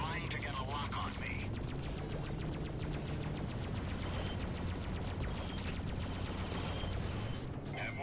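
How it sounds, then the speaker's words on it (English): Rocket striking a spaceship during a space dogfight in the game Freelancer, set within a dense, continuous barrage of rapid weapon fire and blasts that runs the whole time at steady loudness. "Rocket hit."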